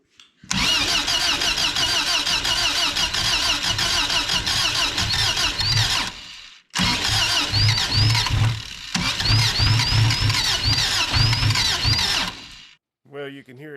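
Swapped engine in a Subaru BRAT cranking hard with a loud whirring starter, catching and sputtering as it tries to run, in three long bursts separated by short pauses, close by.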